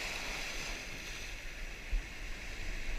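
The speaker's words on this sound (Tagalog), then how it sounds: "Grabing lalaki talaga ng alon." Rough sea waves wash and slap around a small fishing boat in a steady, loud, dense rush of water with wind, continuous and close, no voices over it.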